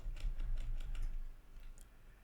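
A computer keyboard is typed on while coding a webpage: a quick, close run of several light keystrokes in the first second, tapering off into quieter scattered clicks.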